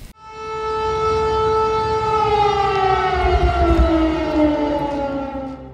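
Civil defense warning siren sounding across the streets of Bobruisk, Belarus, during a public alert system test: a loud, steady wail whose pitch slowly drifts downward, continuous for the whole stretch with no voices.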